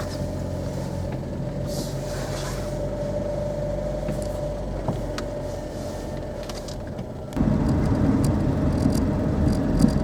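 A Skoda Favorit car drives with a steady, moderate engine hum and road noise throughout, getting noticeably louder and rougher toward the end as it picks up load, with no talk.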